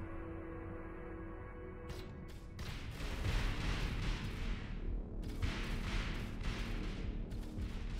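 Fighter ships fire weapons in the space game Avorion: a rapid series of sharp broadband bursts and booms after a quiet hum, with heavy, dense volleys in the middle and later stretches.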